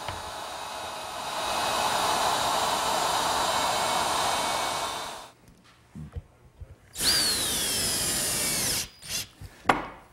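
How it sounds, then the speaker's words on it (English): A router fitted with a 1/4 inch round nose bit plows a groove in wood, a steady loud whine for about five seconds, then a pause of small clunks before a second shorter burst and the motor spinning down. "I have a 1/4 inch round nose bit in my router, and I'll just plow out enough material for that barrel."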